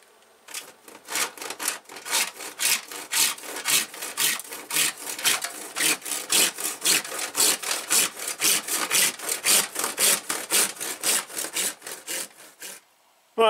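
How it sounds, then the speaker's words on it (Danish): A hand saw cuts through wood in steady back-and-forth strokes, a fast rasping rhythm that continues close and loud for over ten seconds before stopping. "Og det jeg så nu vil gøre, det er at jeg vil save den her kant af."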